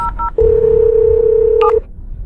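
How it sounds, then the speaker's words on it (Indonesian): A phone number dialed on a telephone keypad: a few short DTMF beeps, then one long steady tone with a brief cluster of keypad beeps near its end, clear and close with no talking. "Saya telepon Pak Zhao sekarang"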